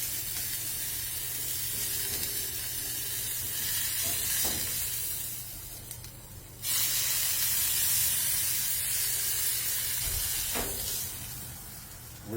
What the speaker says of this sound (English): And you can see there's some fat along the top here. I definitely want to sear that.